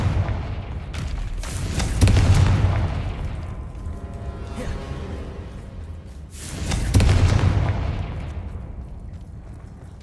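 Confringo blasting spells in Hogwarts Legacy go off as two deep, booming explosions a few seconds apart, each a heavy low thud with a rumbling tail that decays slowly.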